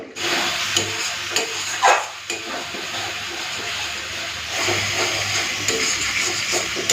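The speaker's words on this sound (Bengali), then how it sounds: "এখন গ্যাসের ফ্লেমটাকে পুরো হাই করে সাবধানে আমাকে নেড়ে যেতে হবে যতক্ষণ না এই মশলাটা থেকে সুন্দর একটা কালার আসছে" Lote fish cooking in a spice masala on a high gas flame, with a continuous sizzle and bubbling, stirring scrapes and a brief clatter near the start, no voices.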